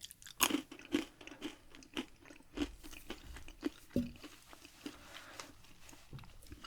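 Close, soft crunching of salted butter pretzels, with sharp bites and irregular chewing crackles rising and falling over a quiet background.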